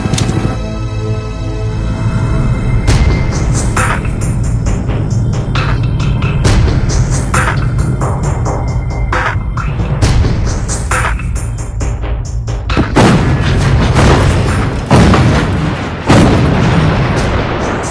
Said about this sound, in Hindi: हमारी आर्टिलरी बोफोर्स गन से पीक 5179 पर बम्बार्डमेंट कर रही है।